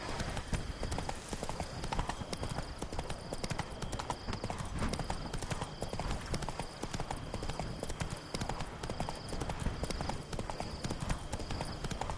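Hooves of Roach, a horse in The Witcher 3: Blood and Wine, clip-clop in a steady continuous rhythm at close range over a dense layer of game ambience, with a voice briefly present.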